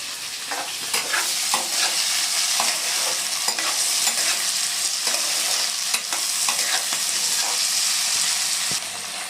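Poa bhola fish and eggplant frying in a pan give a loud, dense, continuous sizzle with frequent crackling pops and stirring scrapes throughout.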